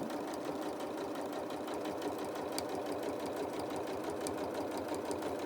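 A sewing machine runs steadily, stitching a straight quilting line across a quilt-as-you-go block, its rapid mechanical needle chatter continuous and even at close range with no talking.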